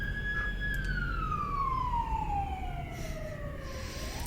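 Emergency vehicle siren passing outside, a steady wailing tone that slowly falls in pitch as it moves away, heard continuously over a low background rumble.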